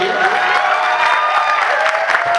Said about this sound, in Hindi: हमारे आर्टिस्ट के लिए जाते जाते तालियों का आशीर्वाद दीजिए